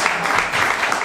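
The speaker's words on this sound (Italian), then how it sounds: "Un applauso anche lei." An audience applauds a speaker at a magazine presentation, giving a short, loud, close burst of clapping from many hands.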